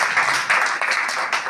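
An audience applauding at a poetry festival, loud, close, dense clapping sustained throughout with a few swells.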